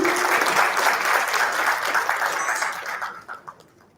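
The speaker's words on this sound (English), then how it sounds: "Can we please have a big round of applause to show that we're present?" A large audience at an HR conference in Pune applauds guests, dense clapping that fills the room at full strength before thinning out and fading to a few last claps.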